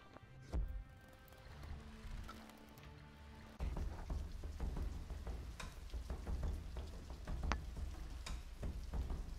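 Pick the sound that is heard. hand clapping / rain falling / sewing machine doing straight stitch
rain falling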